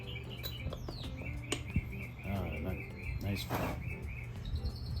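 Birds chirp outdoors in repeated short tweets and trills, mid-distance, while someone talks briefly over steady background noise during work on a Honda Goldwing motorcycle.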